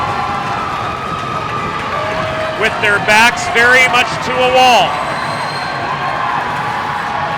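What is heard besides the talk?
crowd cheering at an ice hockey championship game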